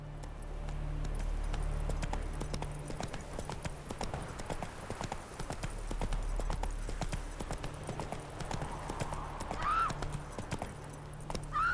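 Roach the horse gallops in The Witcher 3 with a continuous, rapid clip-clop of hooves that stays fairly steady throughout, while a short whinny-like cry rises near the end.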